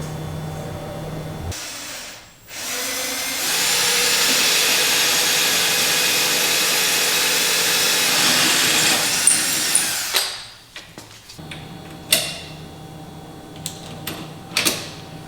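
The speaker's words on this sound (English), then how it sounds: "just drill 2 small holes in this overstructure" A power drill whines loudly and steadily for several seconds, drilling small holes in the upper block structure of a Polaris 9R 146 snowmobile build, then stops, followed by scattered clicks and handling knocks.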